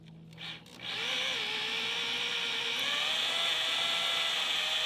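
A power drill whirs steadily and loudly after a brief scrape, its high whine holding for several seconds as it bores into timber inside a wooden boat, rubbing against bronze.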